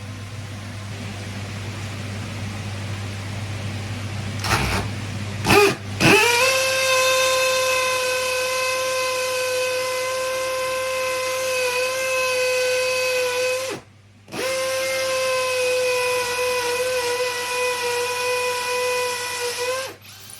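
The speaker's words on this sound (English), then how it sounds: "So I better go and get my drill." A power drill whines at steady high speed for long stretches while mounting something on a wall, briefly stopping once and then starting again, loud and close.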